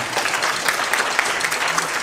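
An audience at a jazz clinic during the 2024 National Jazz Festival gives a round of applause for a clarinet player, a steady crowd of clapping hands from start to finish, no voices.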